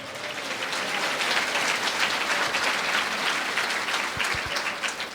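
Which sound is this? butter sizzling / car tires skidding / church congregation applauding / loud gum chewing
church congregation applauding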